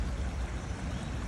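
River water flowing steadily close by, a continuous rushing wash with no clear breaks, in a suburb.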